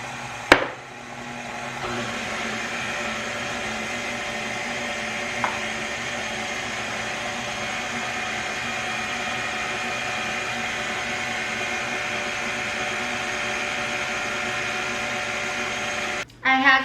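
An electric mixer whirs steadily at close range, mixing cream, lemon zest and vanilla into a pale egg yolk mixture for a lemon tres leches cake, running continuously after a sharp start and cutting off near the end.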